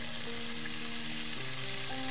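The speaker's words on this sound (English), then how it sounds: "Add kimchi in frying pan. Stir fry for 1 minute." Kimchi sizzles steadily as it stir-fries in a hot frying pan, a dense crackling hiss with faint tonal hum underneath, close and continuous.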